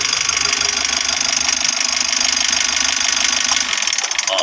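A Mitsubishi L300 Euro 4 engine idles close by with a steady, dense mechanical drone and rattle, then the sound shifts and stutters at the very end as it is switched off.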